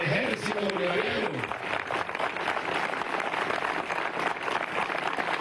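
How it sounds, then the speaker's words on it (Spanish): Applause for the commander general of the Bolivarian Army of Venezuela at a military demonstration of locally built demining vehicles: a steady, dense crowd clapping that carries on throughout, with a voice speaking over it at the start. "Un aplauso para él y para todo el Ejército Bolivariano."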